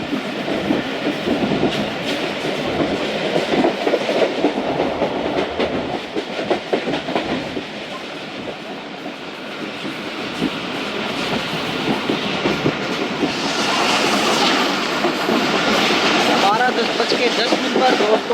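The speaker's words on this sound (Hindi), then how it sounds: "सादिकाबाद रेलवे स्टेशन पास हो रही है ट्रेन, और सामने से आ रही है 8 डाउन तेज गाम" A train at night rolls past Sadiqabad railway station while the 8 Down Tezgam approaches from the opposite direction. A steady rumble and clickety-clack of wheels swells louder near the end, with a voice talking over it.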